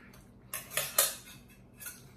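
A metal fork clinks and scrapes against a dish during a meal, giving three or four sharp, close, bright taps over a quiet background, with no talking.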